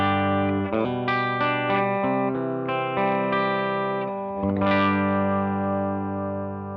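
A clean electric guitar, a Gibson Les Paul with humbucker pickups, plays through a Tweed Deluxe amp, ringing out a sequence of sustained chords and notes that swell near the end, loud and alone.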